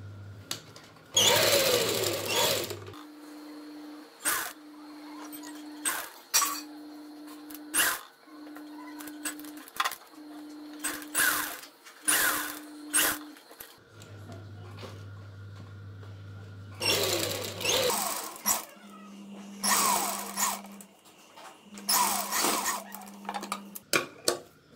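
Domestic sewing machine stitching fabric for a handmade lehenga latkan, running in short repeated bursts of motor whir with pauses and clicks between them.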